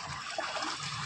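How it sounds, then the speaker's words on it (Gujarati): Water pouring directly into a covered farm water tank, a short, steady gurgling trickle with a soft splashy hiss, heard alone. "એનું ડાયરેક્ટ પાણી કુંડીમાં આવે છે."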